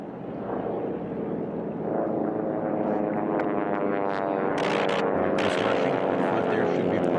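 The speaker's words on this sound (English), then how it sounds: "This is shoulder-to-shoulder, wingtip to wingtip racing." T-6 racing aircraft roar past at the Reno air races, a loud, steady propeller-engine drone that builds and holds, with a commentator talking over it.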